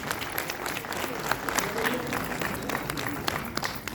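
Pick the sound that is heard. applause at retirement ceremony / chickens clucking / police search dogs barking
applause at retirement ceremony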